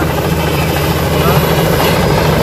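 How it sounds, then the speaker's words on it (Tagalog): A helicopter lands on a yacht at a resort: a loud, close, continuous rotor and engine roar that holds steady from start to finish, with no voices over it. "Helicopter ni Kuya Will."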